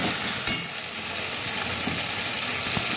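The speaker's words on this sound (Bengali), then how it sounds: "ভালো করে আমি কষিয়ে নেব আদা রসুন পেঁয়াজ বাটাটাকে।" A ginger, garlic and onion paste cooks with tomato paste in a hot pan for a crab curry, making a loud, continuous close sizzle with a brief stir or clink early on and no voices.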